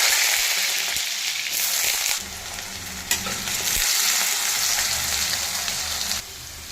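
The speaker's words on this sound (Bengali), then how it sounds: "কড়াইয়ে সর্ষের তেল গরম হয়ে গেছে, এবার প্রথমে আলুগুলো ভেজে নেবো।" Potatoes sizzle and crackle in hot mustard oil, a loud continuous hiss close by, broken by occasional scraping and stirring sounds.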